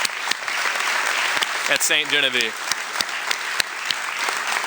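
Applause for a retiring high school coach at a radio station's spring Dream Team event, a steady wash of clapping throughout, with someone speaking over it and a brief tonal sound partway through.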